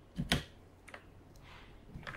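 A computer keyboard key is pressed, giving a couple of quick, close clicks at the start and a lighter tap later in an otherwise quiet room.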